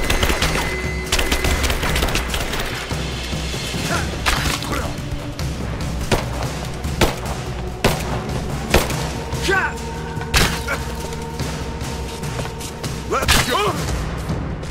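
Gunfire in the Tomb Raider video game, a dense stream of shots and impacts layered over game music and effects, with voices talking throughout.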